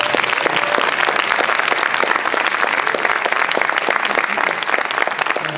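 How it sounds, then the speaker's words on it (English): A live audience gives a steady, dense round of applause for a panel discussion, many hands clapping close and loud throughout with no break or talk over it. "let's give the panelists a round of applause"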